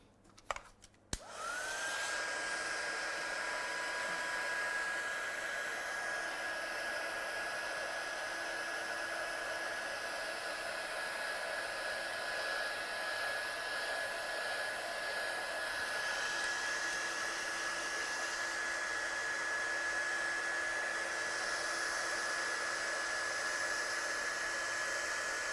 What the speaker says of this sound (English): let's just dry this design off at the back